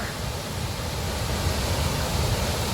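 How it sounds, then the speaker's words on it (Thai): Hua Chang waterfall in Thailand gives off a steady broadband rush of falling water, constant and moderately loud with no distinct events and no voices. "มาเที่ยวชมน้ำตกหัวช้างนะฮะ"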